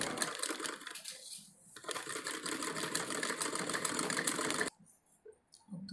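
A sewing machine stitches a bordered salwar in a fast, steady whir with a brief slowdown, then stops abruptly, leaving a few faint handling sounds.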